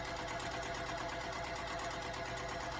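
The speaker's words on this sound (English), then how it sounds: "we're gonna sew down there on both sides of that line, and I'm just gonna chain piece these" Steady, continuous whir of a sewing machine chain piecing maple leaf quilt block pieces, running at an even speed with no pauses or talk.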